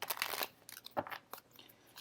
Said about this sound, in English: let me shuffle them this way for you